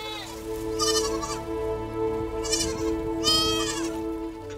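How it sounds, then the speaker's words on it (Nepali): Several goats bleat while being fed grass in a village courtyard in Jyotinagar, Tikapur, Kailali. Three clear, wavering bleats come close together over a steady low hum, with no talking. "कर्णराजी बाख्रालाई घाँस हाल्दै थिए"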